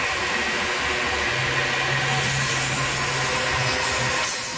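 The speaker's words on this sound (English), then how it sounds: "I hear a vacuum leak" A loose hose on a 1998 Ford E350 engine leaks vacuum, giving a loud, continuous broadband hiss over a running engine's low hum, steady throughout with no talk.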